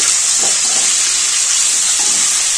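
Onions, carrots and potatoes frying in hot oil for Chennai-style drumstick sambar, a dense continuous sizzle and hiss with a few soft stirring scrapes, close and loud.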